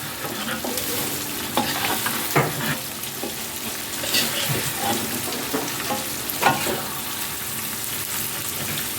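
An egg frying in chili in a pan, giving a steady close sizzle with occasional stirring scrapes and soft clicks throughout.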